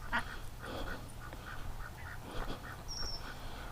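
Ducks quack in scattered short bursts around a quiet homestead yard, a mix of nearer and farther calls over steady low background noise.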